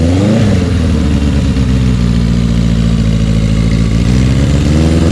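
A motorcycle fitted with a new muffler runs loud and close, its engine climbing through a rev and then holding a strong, steady throbbing drone for the whole stretch, with no talk.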